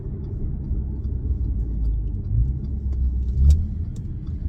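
An Audi S5 with a Stage 1 tune pulls hard under acceleration, heard as a deep, steady engine rumble from inside the car with a brief surge near the end.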